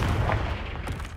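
Confringo blasting spell explosion in Hogwarts Legacy, one loud booming blast with a rumbling low-heavy burst that fades over about a second, with no speech.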